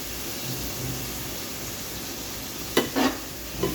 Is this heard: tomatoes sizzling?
yes